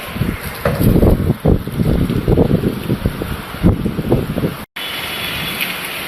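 Gusty wind buffets with rain in Bhachau taluka, Kutch, loud and uneven bursts for several seconds, then a steadier rushing hiss after a brief cut.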